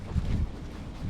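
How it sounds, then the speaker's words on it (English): Strong gusty wind blows on a lake from a fishing boat as a storm comes in, a steady loud low roar buffeting the microphone with no one speaking. "It's getting way too windy to troll"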